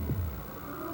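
A heartbeat sound effect in a 1988 Chevy pickup truck television advertisement gives a single deep, muffled thump at the start, then a low steady hum.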